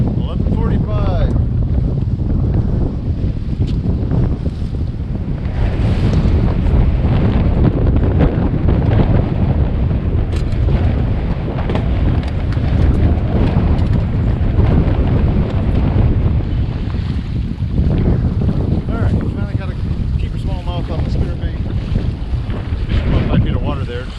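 Heavy wind buffets a fishing boat drifting across Paw Paw Lake, with loud continuous roaring gusts and wind noise on the microphone over water lapping against the hull for the whole stretch, and a voice faintly present at times.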